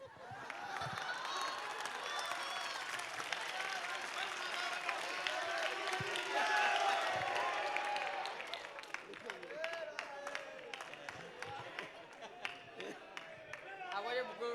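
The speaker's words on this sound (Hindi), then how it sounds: "अब वो ताली बज जाएगी तो हम क्या करें इसमें?" An audience claps at a spiritual question-and-answer gathering in Lucknow, sustained applause running throughout at moderate level with a crowd murmuring and talking over it.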